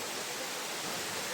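Steady rushing water of Elephant Falls, a waterfall in Shillong, Meghalaya, heard as a continuous broadband roar with no breaks, moderately close and without talk.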